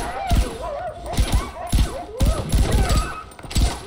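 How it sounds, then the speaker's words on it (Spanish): Dogs bark in the video game Far Cry 4, a rapid series of sharp, close barks and yips repeating in an irregular rhythm, mixed with game effects and a voice talking. "Que hay perros por aquí."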